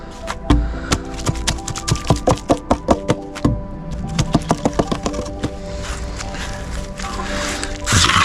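A series of uneven wet slaps and knocks, close and moderately loud, as wet concrete for a 16 by 7 foot ramp is tamped and worked with a sawing action, with pauses between bursts.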